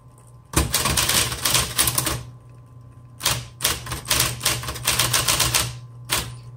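Rapid typing on a 1960s Smith Corona Electra 120 electric typewriter with a fresh ribbon, heard close and loud in two dense bursts of clattering keystrokes separated by a short pause, with a low electric motor hum running underneath.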